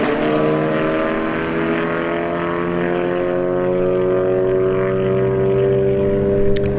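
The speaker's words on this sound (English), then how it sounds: "Turbo 4th gen Camaro goes 141 miles an hour" A turbocharged fourth-generation Camaro drag races a Golf R down the strip, engines droning loud and steady with a long rising harmonic whine through the full run, no talking over it.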